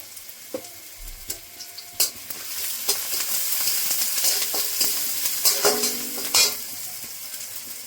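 Chopped onion with a pinch of salt fries loudly in a pan for a bread snack, a dense crackling sizzle punctuated by repeated metal spatula scrapes and clinks against the pan, close and continuous with no talking.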